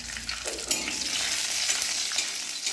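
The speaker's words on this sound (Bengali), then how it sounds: "ওই কাঁচা বাদামটাকে ঠিক ভেজে নিচ্ছি" Raw peanuts fry in hot oil, producing a dense continuous sizzle with a few soft stirring scrapes, close and fairly loud, with no speech.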